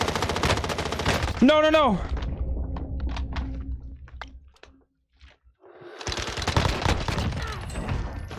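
Uzi submachine gun fire in a shooter video game, rapid bursts of gunshots at the start and again near the end, separated by a quieter stretch, with a voice reacting in between.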